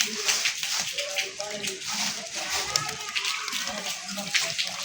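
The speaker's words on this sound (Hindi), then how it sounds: "बारिश एकदम से तेज़ हुई है" Sudden heavy rain pours down steadily outdoors, a dense continuous hiss of falling water running off a cooler and collecting in pools, with someone talking over it throughout.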